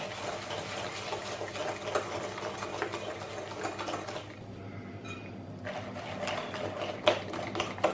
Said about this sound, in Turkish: Şekerim eriyinceye kadar çırpacağım.